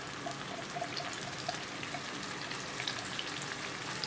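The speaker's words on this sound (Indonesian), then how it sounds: "Kita untuk menggoreng sambal terasinya." Sambal terasi frying in oil makes a faint, steady sizzle with soft popping and bubbling, heard close but low in level, with no voices.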